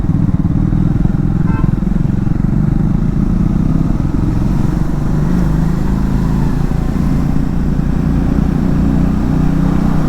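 A Triumph Scrambler 400X motorcycle rides with a loud, close, continuous engine drone and exhaust rumble, steady throughout with small shifts in pitch.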